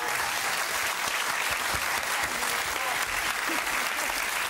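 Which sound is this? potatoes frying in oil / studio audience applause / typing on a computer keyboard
studio audience applause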